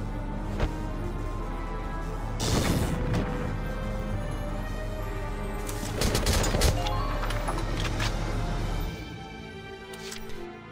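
Gunfire in Valkyria Chronicles against tanks: a few loud bursts of rapid shots over a steady droning game soundscape, with scattered sharper cracks and a final lighter shot after the drone drops away.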